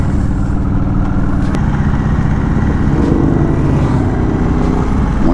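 A Harley-Davidson Sportster S motorcycle riding the twisting mountain road of the Tail of the Dragon, its engine a steady low rumble that holds evenly throughout, loud and close, with a faint whistle of wind over it.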